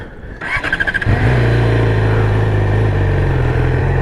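A Yamaha R6 sport motorcycle engine fires up and revs sharply a few times, then settles into a loud, deep, steady idle close by.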